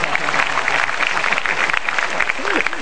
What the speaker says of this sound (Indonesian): Sekarang sudah boleh tepuk tangan.